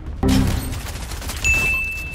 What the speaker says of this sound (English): Trying to harpoon gun me.